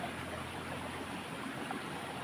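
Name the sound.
river stream flowing while fishing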